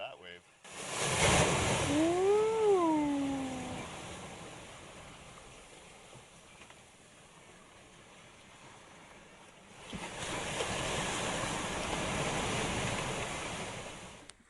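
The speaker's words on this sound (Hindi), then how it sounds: "लहरें बहुत चिकनी हैं।" Ocean waves wash and rush around a sailboat out at sea on a Pacific crossing, a broad steady roar with wind buffeting the microphone, swelling louder near the start and end, with a brief voice early on.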